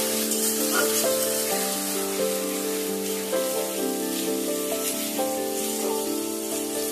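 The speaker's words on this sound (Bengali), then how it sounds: "এগুলোকে এখন তেলের মধ্যে একটু সময় নিয়ে কষাবো।" Onion, ginger and garlic paste frying in oil for a Bengali shol fish dish, giving a steady, close sizzle that runs the whole time over a faint tonal background, with no talking.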